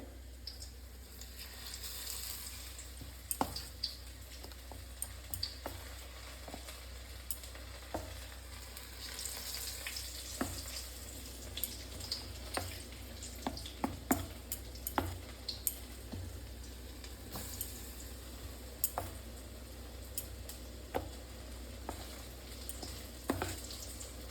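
Battered pieces of banana flower fry in oil in a kadai, giving a steady close sizzle with frequent sharp crackles and pops scattered through it, alone without talk.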